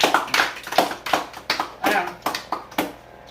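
Campers give themselves a short round of applause after lunch, a few scattered, uneven hand claps in a small group rather than a full crowd, with children's voices mixed in.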